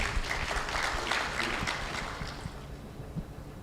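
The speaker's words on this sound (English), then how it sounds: "Clap for them, please." Conference audience applause at a parliamentary budget offices gathering, a soft, rather distant spatter of many hands that thins out toward the end.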